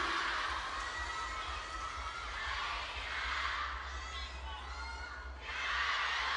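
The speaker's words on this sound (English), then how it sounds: "Listen to the crowd." A distant table tennis arena crowd cheers and shouts continuously, swelling and fading in waves, with high excited voices blending into a broad roar.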